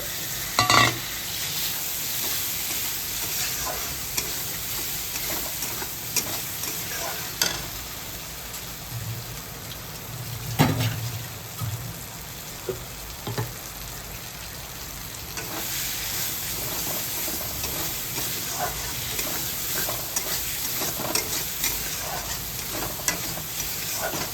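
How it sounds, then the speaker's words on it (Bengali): Prawns frying in a pan for chingri malai curry with coconut milk and a spoon of sugar: a steady, close sizzle runs throughout, broken by occasional scraping stirs, with no talking. "এবার আমি চিংড়ি মাছগুলো দিয়ে দিচ্ছি"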